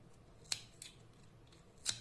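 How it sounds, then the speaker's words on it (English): Scissors snipping through yarn wound around a pompom-making tool, a few quiet, sharp cuts spaced apart against a soft, near-silent background. "I am inserting my scissors there, and I will cut all around this part."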